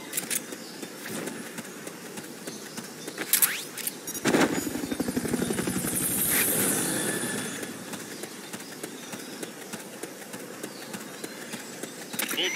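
Helicopter in the video game Metal Gear Solid Peace Walker, a mechanical rotor-and-engine drone swelling to a louder pass midway and then settling back to a lower steady hum, with no speech.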